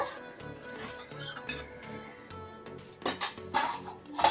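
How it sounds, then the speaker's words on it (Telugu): A lid clatters onto a pot of simmering lotus seed masala curry, bright metallic clinks and scrapes of pan and utensils rising toward the end over a low kitchen hum. "మూత పెట్టేసి ఉడికించుకుందాం"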